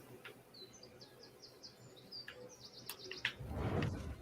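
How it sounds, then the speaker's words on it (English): Birds calling from a video game stream, a string of faint chirping calls spread across the clip over steady low background noise, ending in a louder low rumble. "here come those doggone seagulls"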